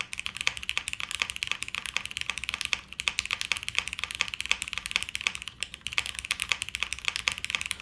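Steady rapid typing on a mechanical keyboard with an Alexa-style layout, dense clacky keystrokes running throughout, close and clear with no talking.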